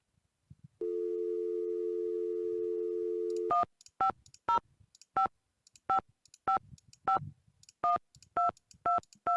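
In the Nancy Drew game Secret of the Scarlet Hand, a steady telephone dial tone plays for a few seconds, then a quick series of separate touch-tone beeps follows as a number is dialed, clean and alone.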